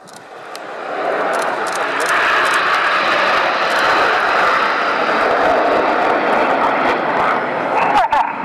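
Red Arrows jets trailing smoke sweep past at the Royal International Air Tattoo 2016, a loud sustained engine roar swelling quickly and holding for several seconds, with faint crowd sounds beneath.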